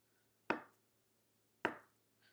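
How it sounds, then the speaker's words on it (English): Two sharp knife chops through food onto a board for a dinner meal, spaced about a second apart, close and distinct against a quiet background. "I'm just going to cut these in some slices"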